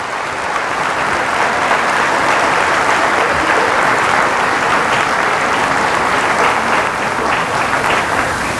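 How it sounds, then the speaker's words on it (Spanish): A congregation at a Catholic retreat in Toluca breaks into loud, sustained applause for the Lord, a dense steady wash of clapping that fills the whole stretch without a break. "Fuertes aplausos al Señor."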